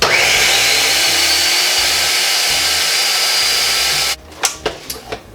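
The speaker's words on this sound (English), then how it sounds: "Then I reserved a little bit of this broth to clean out this blender." A kitchen blender whirs steadily at high speed with a splash of chicken broth swirled inside to rinse it out, loud and continuous for several seconds before cutting off, followed by a few clinks and knocks.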